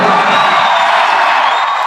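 Applause and cheering from a hall audience, a loud dense wash of clapping with whoops and shouts, steady and close throughout.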